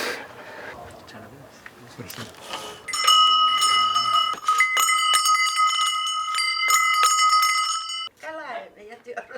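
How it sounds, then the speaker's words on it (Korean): A Greek-style doorbell hung at a blue door in Turkey rings with a bright, sustained metallic chime for several seconds, loud and close, with voices talking before and after it. "그리스식 도어벨인데 종소리에 그만 안주인이 나오고 만다."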